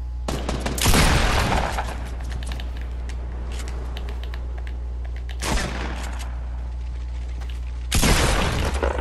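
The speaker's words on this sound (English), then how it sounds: "someone's shooting at me." Video game gunfire erupts in loud bursts, one around the first second, another mid-way and a final one near the end, separated by quieter stretches of background game noise.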